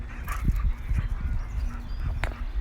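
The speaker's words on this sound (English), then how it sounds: "Oh, that's the dog right there." A dog in a garden gives several short whimpering sounds amid rustling and low background noise, close to the microphone.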